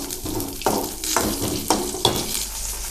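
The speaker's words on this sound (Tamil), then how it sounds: "இப்போ திருப்பி கொஞ்சம் தேங்காய் எண்ணெய் ஊற்றுறோம். சின்ன வெங்காயம் போட்டு வணக்கலாம்." Small shallots sautéing in coconut oil in a home kitchen, a steady frying sizzle broken by several rhythmic stirring scrapes, close and moderately loud with no talking.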